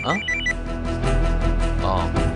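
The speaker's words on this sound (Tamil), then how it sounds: "excuse me phone call" A telephone bell rings in an office, its bright repeated trill sounding loud and close, with a musical background score running steadily underneath.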